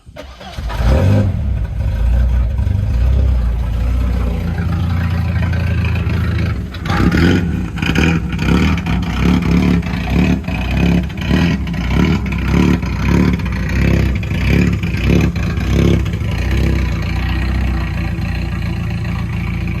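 A car engine cranks, catches and runs loudly with uneven revving, rough pulses and surges continuing close by for the whole stretch.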